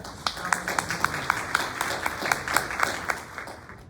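Scattered audience clapping at an Elgin community talk on child poverty and mental health, a modest patter of hand claps with distinct sharp hits rather than a full ovation.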